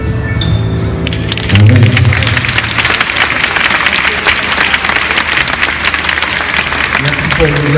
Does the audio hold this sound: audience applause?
yes